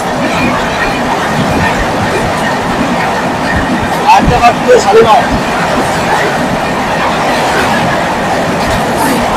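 The East Coast Express crossing the long Godavari rail-and-road bridge in India, heard from inside a carriage as a loud, steady rumble with rattling and a brief metallic squeal midway.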